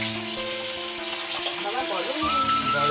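Roti and soybean frying in a kitchen, a steady close sizzle with a layer of background voices and tonal noise underneath.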